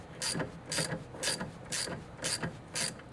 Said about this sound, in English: you're gonna wanna just torque this down as tight as you can get it